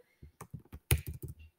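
Typing on a computer keyboard: a quick burst of about ten crisp, close keystrokes in an uneven rhythm, with one louder tap in the middle.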